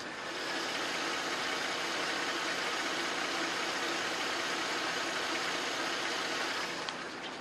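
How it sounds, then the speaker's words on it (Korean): A 2006 Mercedes-Benz ML350 4MATIC's V6 gasoline engine idles smoothly and quietly, a steady, even hum that lasts throughout with no voices. "엔진 소리 한번 들려드릴게요."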